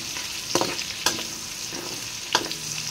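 Onions sautéing in a pan alongside shrimp paste (alamang) make a steady sizzle, broken by three sharp stirring scrapes at a fairly close distance.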